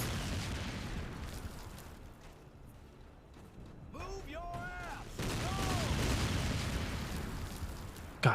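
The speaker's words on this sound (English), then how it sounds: "There's just, like, really loud explosions" A war video game rumbles with continuous heavy explosions and booming blasts, loud and dense, with a brief speaking voice over them midway.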